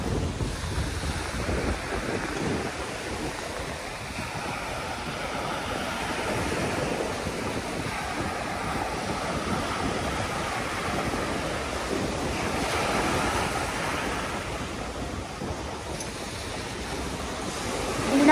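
Strong wind buffets the microphone while waves wash continuously along the Manila Bay shore, a loud, dense roar with no speech.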